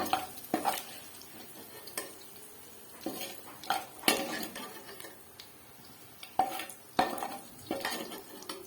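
A spoon scrapes browned coarse minced chicken from a pan onto a plate, giving sharp metallic clinks and scrapes in irregular bursts over a soft sizzle.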